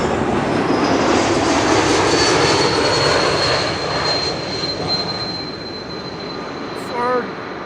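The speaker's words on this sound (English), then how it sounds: "Let's turn around for an E2 Ember 195 arriving from Brussels" An Embraer E195-E2 jet arriving at Schiphol from Brussels, its engines roaring loud and close, then slowly fading as a whine lingers, with gusting wind over the microphone.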